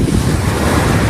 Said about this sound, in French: le vent s'est bien levé, il y a 15 à 20 nœuds de vent